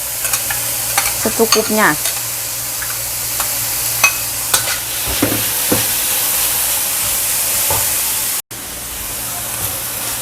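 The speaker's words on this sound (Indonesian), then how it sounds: "Nah ini bawang putih sama minyaknya masuk." Garlic and vegetables stir-frying in oil in a home kitchen, a steady sizzle with scraping and stirring clatter from a utensil, and a brief word spoken over it.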